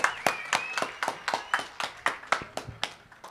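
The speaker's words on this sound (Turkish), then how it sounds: "Orhan Öztürk güçlü alkışlarınızla." Hands clap at a village grape festival, sharp separate claps in a quick, fairly even rhythm, sounding like only a few people, faint and somewhat distant with no talk over them.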